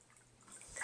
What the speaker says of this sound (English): And then we're going to go ahead and fill the water reservoir halfway again